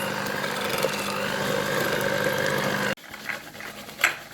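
Electric mixer creaming butter and sugar for a Christmas fruit cake batter, a steady loud motor whir that runs continuously for about three seconds, then cuts off abruptly and leaves faint kitchen clatter.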